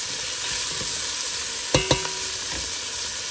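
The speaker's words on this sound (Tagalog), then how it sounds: "mix it up until the tomato is cooked" Tomato frying in a pan for a mung bean dish, a continuous sizzle with a couple of sharp metallic clinks of a spoon against the pan midway, with no talking.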